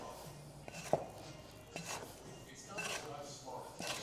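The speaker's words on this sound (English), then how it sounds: "I'm gonna take this scraper and I'm just gonna scrape down all the sides" A plastic scraper drags and scrapes around the sides of a bowl of sourdough, giving a few soft, close rubbing strokes and light knocks against the bowl.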